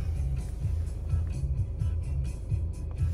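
Steady low car engine idle rumble right after a keyless push-button start, with faint light clicks above it, moderately quiet and close, no talk.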